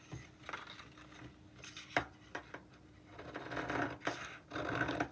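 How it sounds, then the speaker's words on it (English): Scissors snipping half a sheet of paper along drawn lines for a woven heart craft, with a few crisp cuts and soft rustling scrapes of paper at close range, no talking. "we're going to take our scissors and we are going to cut"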